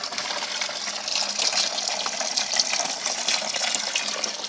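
In an aquaponics filter system, pumped water gushes and splashes in a constant, close stream, like a running tap, with no voices over it.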